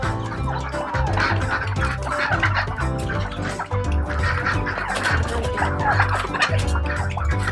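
Birds eat thrown feed excitedly, a busy mass of clucking, squawking and flapping close by with constant overlapping calls, while people speak briefly in the background.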